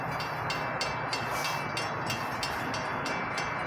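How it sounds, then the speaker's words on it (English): A CSX freight oil train rolls past a station, a continuous heavy rumble with rhythmic wheel clicks over rail joints at a steady pace, loud and close throughout. "This might be one of those oil trains."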